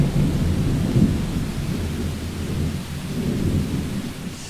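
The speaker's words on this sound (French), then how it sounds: "on constate très vite que l'orage nous échappe à nouveau et que la pluie regagne du terrain" Thunderstorm with steady heavy rain in Tornado Alley, a continuous loud wash of rain and low rolling thunder rumble that swells and fades throughout, with no voices.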